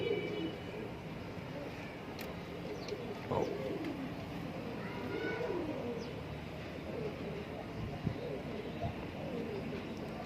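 Pigeons in a loft at a Cairo Friday market coo softly and repeatedly, a few low throaty calls rising above a steady hum of background noise.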